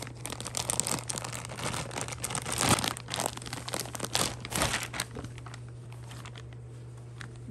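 Plastic packaging of a Bedsure 100% cotton king quilt set crinkling and tearing as it is opened, a run of close, crisp rustles and sharp crackles over a faint steady hum, quieting toward the end.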